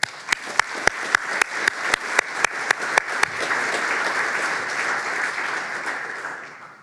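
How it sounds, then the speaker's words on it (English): Audience applause at a conference closing session: a series of about a dozen sharp, evenly spaced claps opens, then swells into steady, dense clapping from the whole room that carries on without talking. "So I applaud all of you."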